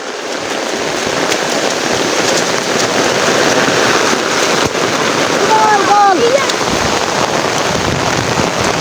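Heavy rain pours steadily in a dense, loud hiss, with a faint voice briefly audible underneath.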